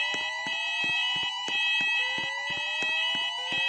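A mall fire alarm sounds loudly and close, a rapid pulsing electronic tone repeating in an even rhythm with dense ringing overtones, and no voices over it.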